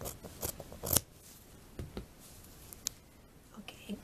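Scissors trim extra seam allowance on a dirndl blouse with a series of close, crisp snips, several clustered at the start and then spaced out, with quiet pauses between cuts.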